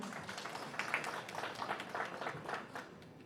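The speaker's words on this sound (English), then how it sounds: "Clap for him." Audience clapping at the Asante Adehyeman fundraising dinner dance, a steady round of applause from a room of guests that swells briefly and then tapers off near the end.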